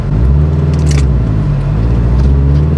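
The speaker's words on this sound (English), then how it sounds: "car was about to stall" A manual car pulls off in first gear and nearly stalls, giving a loud, labored low engine drone with a juddering, uneven rumble from inside the cabin. A brief scraping clatter comes early on.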